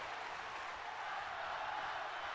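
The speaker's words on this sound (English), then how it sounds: "This crowd thoroughly behind Ronda Rousey, as you can probably hear them screaming her name" A video game wrestling arena crowd in WWE 2K19 roars steadily behind Ronda Rousey, a dense continuous wash of cheering and screaming with no clear breaks, heard at moderate level throughout.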